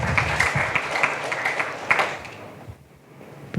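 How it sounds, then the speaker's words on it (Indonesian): A congregation at an online church service claps warmly for a few seconds, the applause thinning out and fading to quiet. "berikan tepuk tangan meriah buat Tuhan kita"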